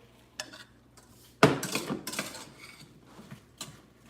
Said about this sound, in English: I'm gonna put the lid on and let that cook down.